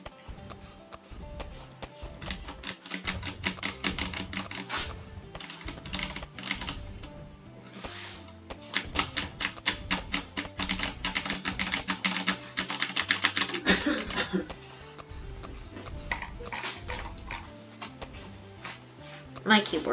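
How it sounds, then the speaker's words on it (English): Loud computer keyboard typing in rapid clattering bursts with brief pauses, close and prominent under game music during play. "My keyboard's loud."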